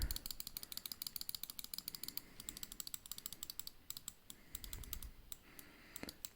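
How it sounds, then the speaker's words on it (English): Rapid, quiet clicks from a Hati S computer mouse's buttons, close up and irregular in rhythm, some in quick bursts, with no talking. "So the clicks on this mouse are exceptional."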